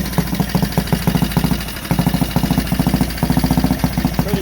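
Vintage Benelli/Motobi motorcycle engine idling in a museum, a steady, loud, close putter of rapid regular firing pulses with a brief dip in the middle before it picks back up.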